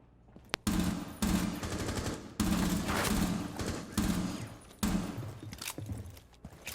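Bursts from a P10 RONI in Rainbow Six Siege fire in rapid, loud, close volleys separated by short pauses, five or six clusters of cracking gunshots in steady rhythm.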